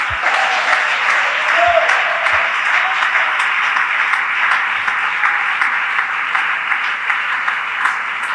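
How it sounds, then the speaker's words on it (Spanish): Sustained applause from a church congregation during a worship service, a dense, steady wash of many hands clapping continuously and fairly loudly throughout, with faint voices mixed in. "dele ese aplauso a la gloria de Él"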